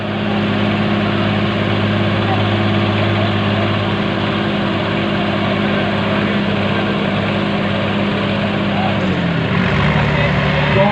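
Loud, continuous drone of tractor engines at a tractor pulling contest in Fatehabad, running steadily throughout, with the pitch shifting near the end as the engine load changes; a crowd and announcer noise underlie it.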